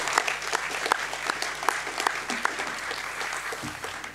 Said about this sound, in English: We'll just give them one more round of applause